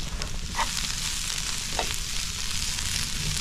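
Shrimp tossed into a pan of frying cabbage set off a loud, steady sizzle, with two light stirring scrapes near the start and a continuous hiss filling the rest.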